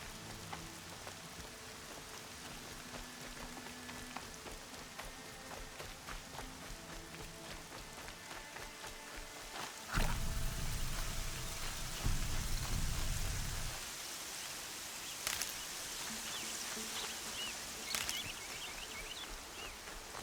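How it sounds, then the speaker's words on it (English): Steady rain falls on a surface for the whole stretch, a dense continuous patter with a brief heavier, lower rumble near the middle. "Rain's not so bad."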